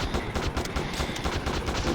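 Dense, loud gunfire in a military video game sounds as rapid automatic bursts crackling continuously at close range, with no clear pauses.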